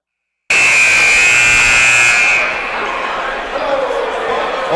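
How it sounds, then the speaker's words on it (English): A loud, sustained electronic buzzer signals the opening of a college basketball game in an arena, holding steady for about two seconds before cutting off into crowd murmur. "Opening buzzer sounds."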